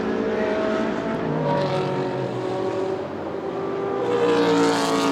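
Ferrari GT race car at Spa during the 24 Hours endurance race, engine drone passing through with rising pitch as it accelerates away, moderately distant, no talk.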